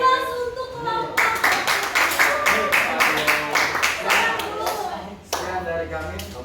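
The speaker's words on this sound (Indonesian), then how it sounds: "jangan lupa beri aplaus untuk kelompok" A classroom group of students claps together in a steady burst of applause lasting several seconds, with a brief pause near the end before clapping resumes, close and moderately loud.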